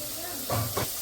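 A crisp tadka of asafoetida and black pepper hits hot oil in a home kitchen, giving a short, close sizzling hiss that rises briefly and then settles.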